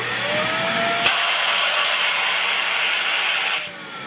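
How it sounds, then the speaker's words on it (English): Vacuum cleaner pumping air out of a homemade vacuum chamber, a loud steady roaring whine that shifts pitch sharply after a second and cuts down near the end, with no talking. "Here's the vacuum."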